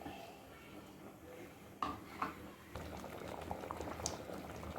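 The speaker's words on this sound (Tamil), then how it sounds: "நல்லா ஒரு கொதி வந்ததும்" Sambar with dal, salt, curry leaves and coriander bubbles at a boil in a pot on a gas stove, a faint, steady simmering burble with a few sharper pops and clinks.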